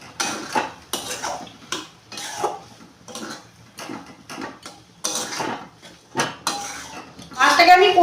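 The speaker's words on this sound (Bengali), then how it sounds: "এভাবে 5 মিনিট মাছটাকে কষিয়ে নেবো।" Fish being sautéed and stirred in a pan for Kolkata-style fish kochuri produces loud, rhythmic metallic scrapes and clatters of a utensil against the pan, with brief bursts of sizzle between strokes and a denser fry near the end.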